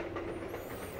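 A train rolls through an underground facility in the video game SaGa Frontier Remastered, giving a steady, fairly quiet rumble with a rattling clatter and a thin high whine on top, with no speech.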